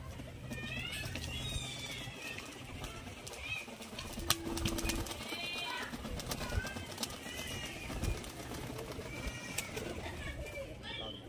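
Giribaj pigeons coo and flutter their wings in a loft, a steady mix of close cooing calls and wingbeats, with voices talking in the background throughout.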